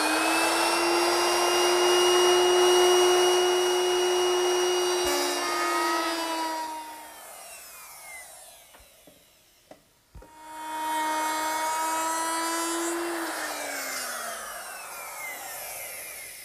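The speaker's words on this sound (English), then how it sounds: "I'll make that beveled rabbet using a 22-degree beveling bit" Router fitted with a 22-degree beveling bit cutting a beveled rabbet in wood: a loud steady high whine during two passes, dropping away into a brief quiet gap before spinning back up.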